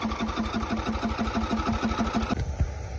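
A Murray lawnmower engine sputters as it starts, giving a fast, steady mechanical chugging up close for over two seconds before it abruptly cuts out.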